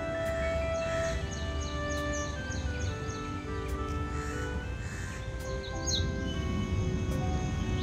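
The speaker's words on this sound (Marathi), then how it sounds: "मैना" A myna calls in Bird Valley Garden in Pimpri Chinchwad, Pune, sending scattered chirps and whistled notes through a steady outdoor background hum.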